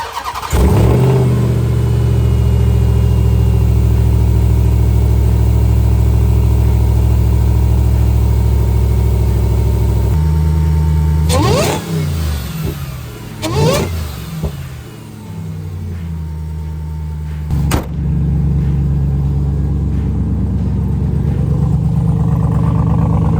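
A Ram TRX pickup truck engine with side-exit exhaust cranks and fires up loudly, settles into a heavy rumbling idle, then blips and revs a few times before idling again.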